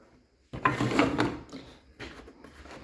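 A workshop tool drawer slides open or shut in a home shop, making a close, rumbling scrape with rattling contents, followed by a second quieter sliding movement.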